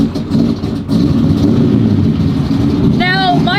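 A car running on E85 fuel, one long kept in a barn, is cold-started and idles with a steady, loud low rumble, and a brief high whine joins near the end.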